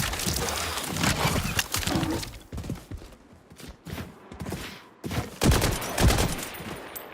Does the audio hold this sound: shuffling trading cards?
no